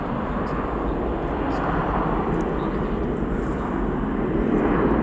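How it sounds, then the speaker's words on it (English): An Emirates Boeing 777 airliner from Dubai passing overhead, a broad, steady roar of jet engines that holds at even loudness throughout. "is going to be that Emirates Boeing 777 from Dubai"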